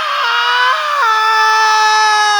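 People screaming together to imitate the Wendigo creature, a loud sustained high-pitched group shriek with shifting pitch that holds for over two seconds without words.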